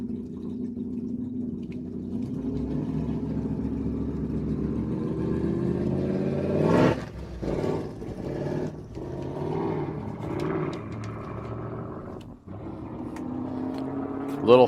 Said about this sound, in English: Rear engine modified roadster.